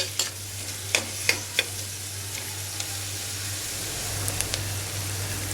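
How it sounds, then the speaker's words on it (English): Chopped onion stirred and frying in a pan while cooking a South Indian sprout curry, a steady close sizzle with a few sharp clicks of the spoon against the pan early on, and no voices. "Stir the onion till the time onion is turning into brown color,"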